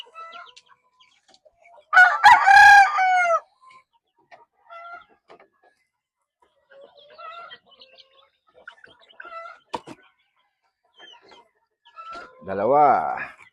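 A Darag native chicken rooster from Iloilo crows loudly once near the start and again at the end, with softer clucks and fowl calls scattered between in a quiet farm setting.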